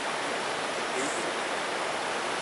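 Little bubbling brook running across a river ford, a close, steady hiss of rushing shallow water with a faint voice briefly underneath.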